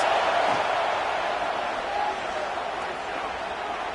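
A college football stadium crowd at Northwestern vs UCLA roars for the defense on a third down in the red zone, a dense, steady wash of noise that holds loud and even throughout.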